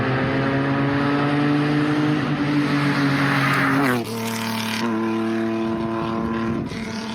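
A Porsche 930 or similar sports car runs with a loud, close, throaty engine drone. The revs climb, then drop sharply as the car shifts or passes, and the engine carries on steadily after.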